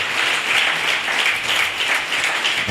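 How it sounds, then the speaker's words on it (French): A church congregation applauds during a worship service, a loud, continuous wash of clapping from many hands that holds steady throughout. "Applaudis pour le roi des rois"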